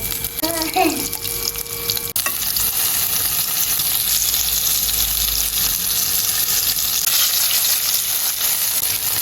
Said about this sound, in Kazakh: Болгарский перецті тоже қуырып аламыз майда.